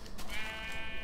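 A black-faced sheep in Minecraft gives a single short, nasal bleat, close and clear, with no voices over it.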